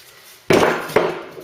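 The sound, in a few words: hammering on a Ford Cortina part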